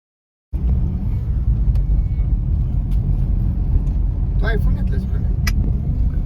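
Steady low rumble of a car heard from inside the cabin while riding, a continuous road drone with faint occasional clicks and no talking.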